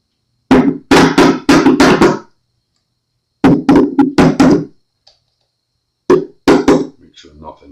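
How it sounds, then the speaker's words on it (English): Knocks on Precision Bass guitar pickups during a tap test, struck in quick clusters: about four taps, a pause, four more, then a final short group. Each tap is close and crisp and rings briefly through the pickups. "One more tap test just before we put a million screws in it."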